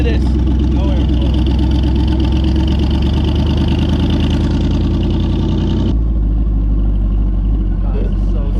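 A lowered car's engine idles steadily while stationary, a loud, continuous close-up rumble whose pitch drops slightly partway through, with a voice talking over it.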